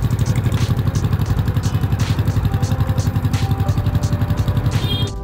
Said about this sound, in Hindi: आई गेस आपको एग्जॉस्ट नोट सुनाई दे रहा होगा अच्छे से।